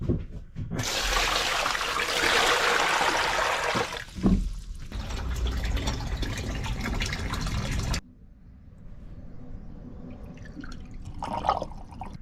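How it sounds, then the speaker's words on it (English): Water rushes loudly down the sink drain on a canal boat for several seconds, then cuts off to a faint trickle and drips, with a brief knock partway through. "so we're ready to pour water down the sink"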